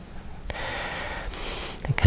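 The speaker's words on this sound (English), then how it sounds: "Breathe calmly and deeply." Calm, deep breathing in a yoga session: a slow, drawn-out breath sound that builds and fades, close and soft, with a sharper inhale near the end.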